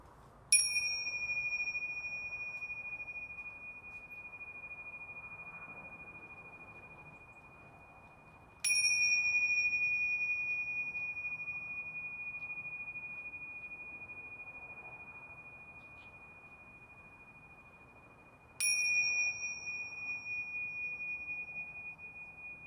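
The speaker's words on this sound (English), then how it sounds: "ring the bells that signal the start" A bell rung to open a church celebration service strikes three times at long, even intervals, each clear ringing tone sustained and slowly fading in a quiet room.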